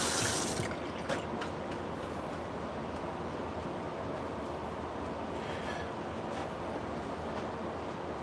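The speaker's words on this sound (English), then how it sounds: "Wash my hands." Water runs steadily from a tap while hands are washed, a soft continuous splashing hiss with a few brief sharper spatters early on, fairly quiet and without talk.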